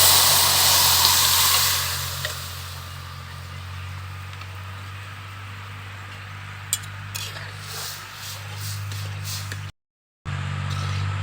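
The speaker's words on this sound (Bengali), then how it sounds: "সেদ্ধ করে নেওয়া ডাল ঢেলে দেব।" Boiled masoor lentils are poured into a hot pan with fried egg, giving a loud burst of sizzling hiss that fades into a softer, steady simmer under a low hum, with faint clinks and a brief dropout.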